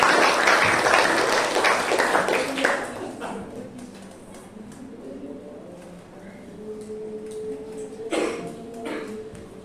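Church congregation clapping and applauding for about three seconds, loud and dense, then fading into quieter room noise with brief murmuring and a short burst of claps near the end.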